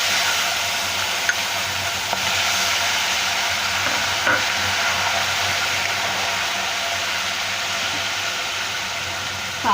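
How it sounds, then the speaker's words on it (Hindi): Oil sizzles steadily with fenugreek seeds as onion paste goes in for a fish curry, a continuous broadband hiss with faint crackles, fairly even in level throughout. "जैसे ही मेथी तड़क जाएगी हम इसमें प्याज का पेस्ट डालेंगे"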